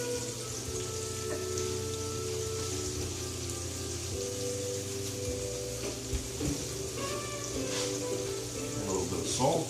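Lamb chops cooking in a pan give off a steady, continuous sizzle and crackle at close range, with a low hum underneath and a few faint clicks near the end, no speech.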